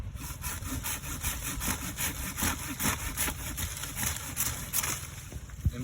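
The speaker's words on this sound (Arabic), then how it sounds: "نشيل الجزء ده زي ما انتم شايفين كده بالمنشار" A hand saw cuts through a thick branch of an old, large native mango tree, with steady rhythmic back-and-forth strokes rasping close and loud for the whole stretch, with no talking.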